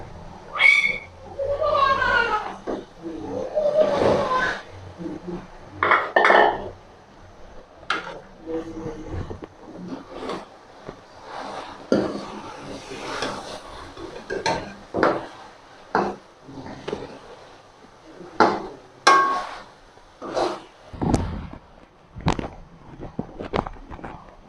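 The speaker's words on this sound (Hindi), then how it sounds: "तो अब हम इसमें गोश्त डालते हैं" Chicken pieces tumble into a pot of fried spices for a white chicken handi and get stirred, giving a run of irregular clanks and scrapes of utensil on metal, close and moderately loud, with no talking.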